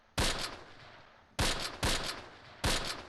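Gunfire in the Close Combat video game, with four sharp, loud shots or short bursts spaced irregularly over a faint background, each ringing briefly before fading.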